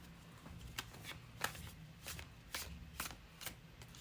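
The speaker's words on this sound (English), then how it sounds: "let's shuffle with intention" A deck of oracle cards being shuffled by hand, giving a run of crisp riffling bursts roughly every half second, close and fairly quiet, with no voices.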